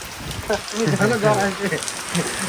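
Steady rain falls outdoors as a broad, even hiss that runs through the whole stretch, with a person talking over it in the foreground.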